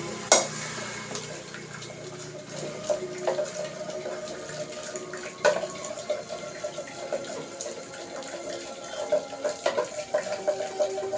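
Cooked ridge gourd being churned and mashed with salt in a pot, a steady wet squelching and sloshing with occasional sharp knocks of the churner against the vessel, close and continuous without talk.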